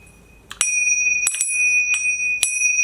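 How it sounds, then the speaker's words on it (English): Chimes are struck several times in quick, uneven succession, each bright metallic hit leaving a sustained high shimmering ring that hangs between strikes, heard alone without speech. "let me hit my chimes"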